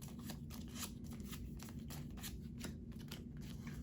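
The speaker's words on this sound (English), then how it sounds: "So we'll shuffle up our hand." Playing cards being shuffled by hand during a game of Zombies, a quiet run of rapid flicking riffles repeating evenly at close range without talk.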